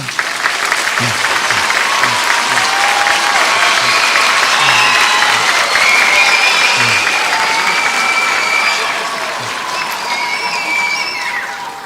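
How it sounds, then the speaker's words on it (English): Sustained audience applause for student musicians at a school all-band night, dense and loud throughout with faint cheering and whistles mixed in, tapering slightly near the end. "Let's start by giving them a round of applause"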